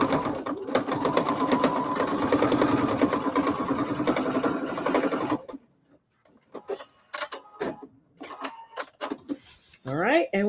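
A sewing machine runs steadily and loudly on the last seam of a denim corset, a continuous mechanical whir for about five seconds before stopping, followed by scattered clicks and handling noises.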